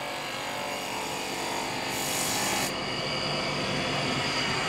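Gouge chisel cutting a shoulder into wood spinning on a lathe, a continuous close rasping scrape over the motor's steady drone, with one brighter burst partway through.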